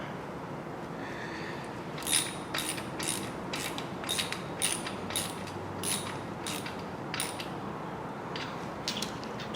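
A socket ratchet with an 11/16 socket tightens bolts on a Ford 302 small-block engine, sounding as quick bursts of close, crisp clicking repeated about a dozen times in an uneven rhythm, with no talk.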